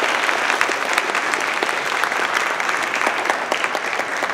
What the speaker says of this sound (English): Could you give a round of applause for our student guests that we just met?